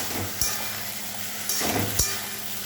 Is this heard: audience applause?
no